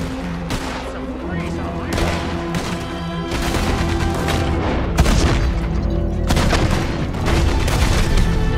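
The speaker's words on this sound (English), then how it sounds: "Get on that Gatling gun, guys." Gatling gun fire in the Red Dead Redemption 2 western game, loud rapid bursts of heavy shots in repeated volleys with booming impacts, close and dense, with voices faintly beneath.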